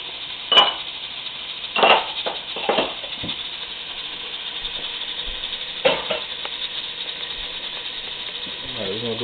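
Chopped sweet Spanish onion, green onion, garlic and vegetables are stirred in a frying pan with a few distinct scraping strokes over a faint sizzle, close by, with some clattering near the end.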